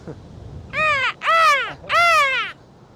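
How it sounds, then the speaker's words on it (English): Black-tailed gulls on the Sea of Japan coast at Hinomisaki, Shimane, give three loud, close, nasal cawing calls in quick succession over faint background noise. "Oh, those are the black-tailed seagulls."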